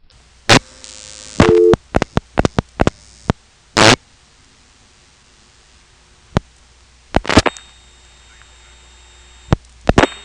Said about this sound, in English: you can hear this 2600 controlled carrier coming on very clearly